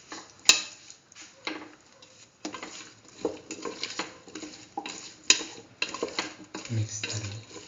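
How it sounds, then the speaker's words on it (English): A spoon stirs salt into a cauliflower and chayote rice mixture in a pan, with repeated scraping and clinking strokes and a light sizzle underneath, close and fairly loud. "Mix in the salt thoroughly into the mixture."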